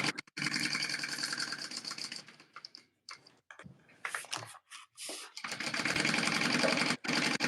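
Sewing machine stitching straight seams on a tote bag, a fast mechanical whirring chatter close by that runs steadily, stops briefly for turning the fabric, then resumes.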